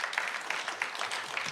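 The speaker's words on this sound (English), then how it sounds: "I think I want to clap it up for this panel right now." An audience at a meeting claps for a panel, producing steady, dense applause that fills the whole short moment with no voices on top.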